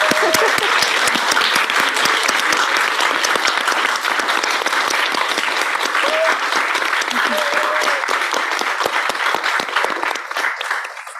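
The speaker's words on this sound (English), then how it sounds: "if we could just give a round of applause for everyone" Sustained applause from the audience at an art and science symposium, many hands clapping in a dense, steady patter for over ten seconds, with faint voices underneath, tapering slightly at the close.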